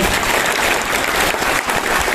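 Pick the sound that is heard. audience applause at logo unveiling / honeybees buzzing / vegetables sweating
audience applause at logo unveiling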